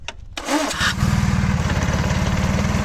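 A mini tractor engine starts up and settles into a loud, steady running chug with a fast even pulse, close by and continuous, with no talk over it.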